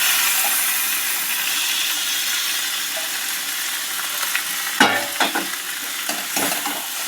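Marinated chicken frying with spice masala in a pan gives a steady, loud hiss, and clattering stirring strokes join in over the last couple of seconds.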